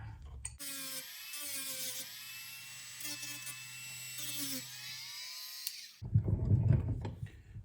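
A high-pitched rotary tool with a sanding bit whines steadily, dipping and rising as it grinds against a Victorinox knife's scales, followed by a short burst of scraping noise.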